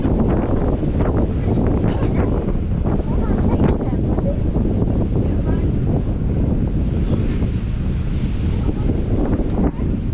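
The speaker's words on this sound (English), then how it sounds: "Really windy out today." Heavy wind buffeting the microphone outdoors at Magic Kingdom while waiting to board a tram, a loud continuous rumbling roar that never lets up, with faint voices muffled underneath.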